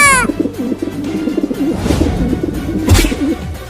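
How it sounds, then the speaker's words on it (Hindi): Rhythmic, low pigeon cooing repeats close by in soft throaty phrases, with a brief whistling chirp at the start and a bump midway. "अरे कबूतर की आवाज आ रही है इस भगोने के अंदर से।"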